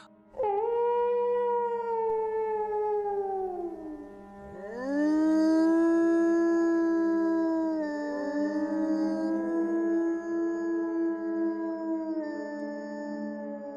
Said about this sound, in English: They were the howls of wolves.